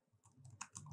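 Console command tapped out on a computer keyboard in Unreal Engine, a quick run of light, close keystrokes in an uneven rhythm over about a second, with no talking.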